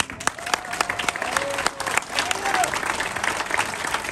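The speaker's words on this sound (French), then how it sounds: "Jean, rien à dire, on peut l'applaudir." A crowd claps in sustained applause, nearby and lively, at a Renault Sport car gathering in Aix-les-Bains, while a voice speaks over it in French.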